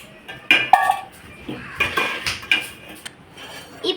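Gulab jamun are moved into a bowl with a series of close clinks and knocks of a spoon against metal dishware, irregular and moderately loud, with short pauses between the scrapes.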